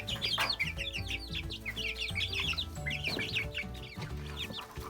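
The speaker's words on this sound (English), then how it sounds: "we got all the chicks in a little carrier we're gonna walk them over to another little coop that we have for our young chicks" Young chicks cheep in a carrier, high rapid peeping in repeated bursts close by, over a low background rumble.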